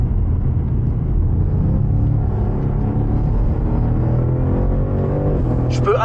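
Car with the MX Drive system accelerating hard, a loud low engine rumble with climbing harmonic tones as revs build steadily, heard close from inside.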